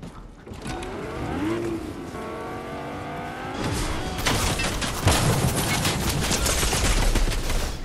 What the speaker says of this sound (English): What is he using? Oh. Goo gun.